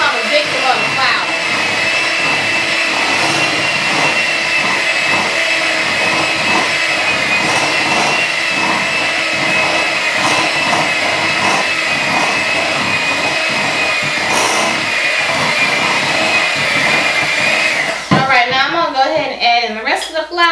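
An electric hand mixer whirs steadily on slow while stirring oatmeal raisin cookie dough with flour, a loud continuous motor drone for most of the span that cuts off near the end, with talk over it.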